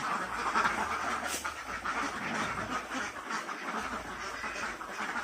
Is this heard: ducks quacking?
yes